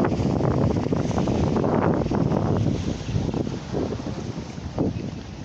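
Floodwater of the Yasica river rushes loudly and steadily after torrential rains upstream, a broad continuous roar with wind buffeting the microphone, easing slightly toward the end.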